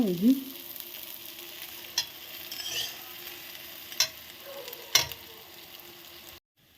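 Egg and paneer bhurji frying in a home kitchen pan, a steady quiet sizzle with a few sharp clinks of a spatula against the pan and stirring scrapes, no talking.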